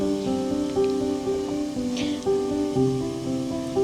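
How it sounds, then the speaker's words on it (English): A salt spray test chamber runs its spray cycle with a continuous hiss and soft liquid patter. Steady tonal machine hums overlap it, stepping between pitches, with no voices. "Then we press spray."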